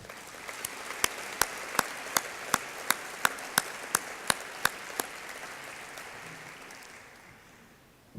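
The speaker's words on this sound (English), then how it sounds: "Please join me in a round of applause for them." Audience applause at a community college State of the College address, a steady wash of many hands with a few sharp rhythmic claps standing out, fading over the last seconds.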